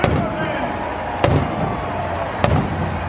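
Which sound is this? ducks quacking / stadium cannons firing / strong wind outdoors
stadium cannons firing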